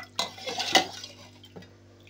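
A metal lid set onto a pot of Maggi noodles in a home kitchen, a few close clanks and scrapes of cookware followed by a softer knock after a pause.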